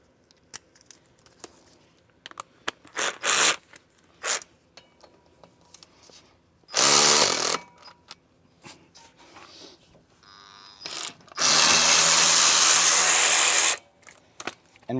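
A power tool fitted with a Torx bit and extension turns the screws holding a car's front brake rotor. Short loud whirring bursts come between clicks and handling noises, with no voices.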